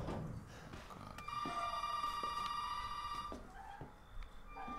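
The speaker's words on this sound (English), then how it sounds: "Oh, the phone's ringing." A landline telephone rings in the horror video game Resident Evil 7, a bright electronic ring held for about two seconds over dim game ambience and faint clunks, with no speech.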